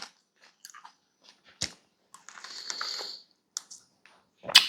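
Someone bites into a juicy blackberry and chews it close up, with a sharp bite, a stretch of soft wet squelching, then scattered smacks and a final louder crunchy bite.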